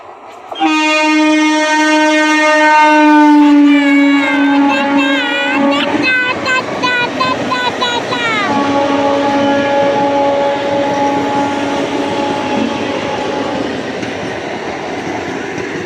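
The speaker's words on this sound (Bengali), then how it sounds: "চলে গেল ট্রেন।" A passenger train passes close by, opening with a long loud horn blast that changes pitch, then a steady rumble and rhythmic clickety-clack of wheels that fades slowly as the cars roll past.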